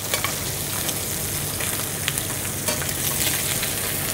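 Sage leaves fry in a pan with a steady, dense sizzle that carries on without a break, close and even in level, with no voices.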